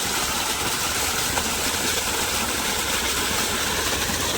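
An electric pump motor drawing well water hums steadily and loudly up close, a constant mechanical drone with faint rattling and no voices.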